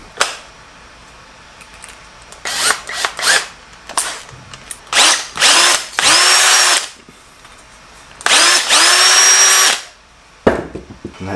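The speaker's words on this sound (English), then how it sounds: "I need to just hit it with like the next size up drill bit." A cordless power drill fitted with the next size up drill bit works on an overhead garage door, giving several short trigger blips and then two longer, loud whining drilling runs, close by with little talk.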